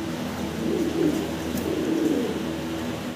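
German Beauty Homer pigeons coo in low, soft, repeated rolling calls close by, with a faint steady background hum.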